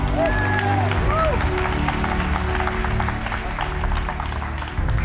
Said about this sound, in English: Ali, a big round of applause for Ali.